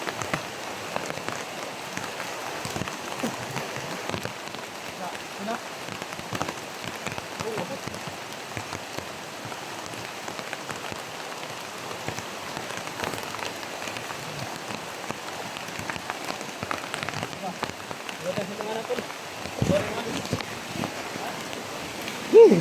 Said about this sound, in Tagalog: Napakalakas yung ulan.